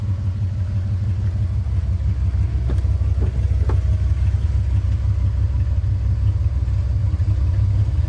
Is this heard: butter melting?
no